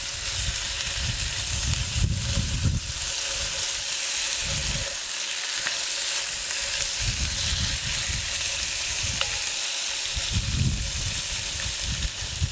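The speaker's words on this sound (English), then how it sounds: "we have this fairly hot because I wanna brown this meat" Pork browning in hot oil in a Dutch oven, a loud continuous close-up sizzle with steady frying crackle throughout.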